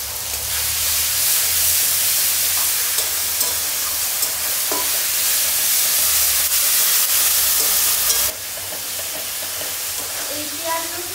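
Ginger garlic paste fries with deeply browned onions in a pan, giving a dense, continuous sizzle with occasional stirring scrapes that eases slightly near the end.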